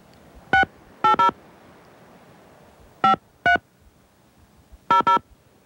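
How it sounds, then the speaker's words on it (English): Touch-tone telephone keypad dialing a number: seven short, clean DTMF beeps in uneven bursts, some paired close together, over a faint hiss with no talk. "This is calling Jacob back now"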